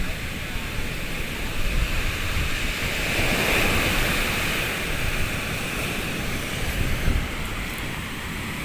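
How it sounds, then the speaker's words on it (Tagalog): Continuous roar of six-foot ocean waves on a shore, broad and noisy, with waves surging and breaking, slight swells in loudness; no voices. "Di ba yung bagsak ng alon?"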